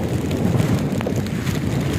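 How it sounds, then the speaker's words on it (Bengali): Steady roar of strong wind and heavy rain buffeting the microphone at a beach in Goa, with a broad wash of noise, constant throughout without any voices. "প্রচণ্ড বাতাস, প্রচণ্ড বৃষ্টি।"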